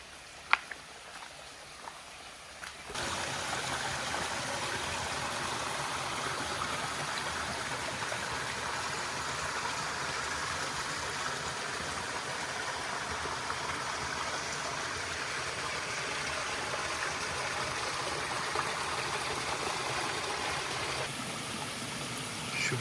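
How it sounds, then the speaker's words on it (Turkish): A creek runs on rural land in Puerto Rico, its steady broadband rush of water beginning abruptly after a few quiet seconds and then flowing continuously and fairly close, with no talking over it. "Daha bu arsanın içinde birkaç tane daha dere ve nehir var."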